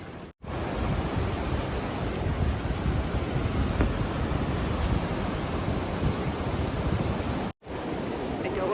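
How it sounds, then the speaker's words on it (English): Ocean surf on the Oregon coast near Gold Beach: a steady, broad roar of waves mixed with wind buffeting the microphone, continuous and loud, with brief dropouts at the start and end. "Made it down to the ocean."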